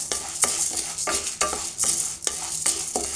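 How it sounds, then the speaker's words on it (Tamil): Urad dal is dry-roasted in a pan for idli podi, making rhythmic scraping stir strokes about every half second over a light crackle. The sound is close and there is no talk. "அதை பெருங்கடையில் நல்லா சவக்க வறுத்துக்கலாம்"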